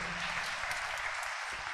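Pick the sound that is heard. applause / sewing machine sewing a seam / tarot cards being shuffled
applause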